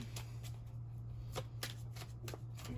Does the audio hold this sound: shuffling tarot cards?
yes